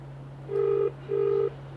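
An outgoing telephone call produces two steady, even tone bursts heard on the line, each about a third of a second long, over a constant low electrical hum.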